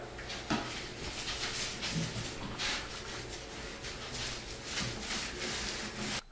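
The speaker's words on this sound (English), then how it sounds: "just use this mini roller to make sure that you spread it out completely" A mini roller spreads floor primer over a subfloor for radiant heating: a steady, close rubbing and rolling swish with soft repeated strokes and faint taps, continuous throughout without speech.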